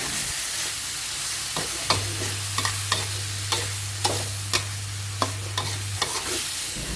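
Sunflower sprouts stir-fried in a pan with minced pork and fresh shiitake mushrooms, a constant bright sizzle broken by regular scraping and tapping strokes from the spatula, with a low hum in the middle part.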